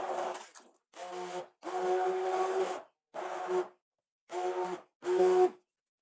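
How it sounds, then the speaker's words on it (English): A stick blender whirring through thick homemade soy yogurt in a kitchen, switched on and off in six short bursts of steady whining motor noise separated by silences. "I will blend it smooth using a stick blender."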